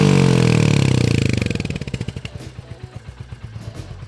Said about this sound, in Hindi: आपको इस बाइक का एग्जॉस्ट नोट कैसा लग रहा है